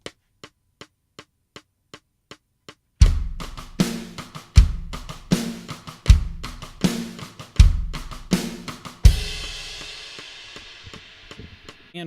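Metronome ticks count in alone, then a full drum groove with kick, rim clicks and steady ticking cymbal patterns plays along in a repeating pulse. It ends on a ringing crash that fades out, close and clear, with no voices.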